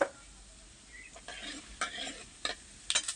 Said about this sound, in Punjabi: ਹੁਣ ਇਹਦੇ ਵਿੱਚ ਆਪਾਂ ਐਡ ਕਰ ਦਿੰਨੇ ਆ ਜੀਰਾ ਜੀਰੇ ਨੂੰ ਆਪਾਂ 1 ਮਿੰਟ ਲਈ ਪਕਾ ਲੈਣੇ ਆ